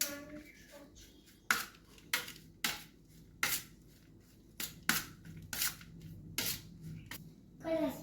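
Homemade potato chips are stirred with spices, producing close, quiet scraping and rustling strokes at a loose, uneven rhythm, each sweep sharp at the start before fading.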